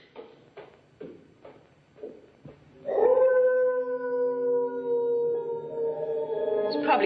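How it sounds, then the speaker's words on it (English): A long, drawn-out howl, likened to a dog caught in a trap, in the 1942 film The Undying Monster; a few short soft yelping sounds come first, then a sustained, loud, wavering cry that holds for several seconds. "Probably a dog caught in a trap."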